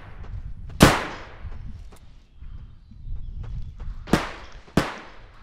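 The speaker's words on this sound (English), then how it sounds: "I like this pistol. I think it's a PL-15." Pistol shots from a PL-15 handgun in the shooter game Bodycam: three sharp, loud reports, one early and a close pair near the end, over low rumbling ambience and faint scattered clicks.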